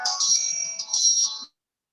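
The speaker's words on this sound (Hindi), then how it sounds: "हमारा फोन आ रहा है" A phone ringtone rings close and clear in two bright, repeating electronic bursts about a second and a half long, then cuts off into silence.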